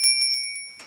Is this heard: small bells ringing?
yes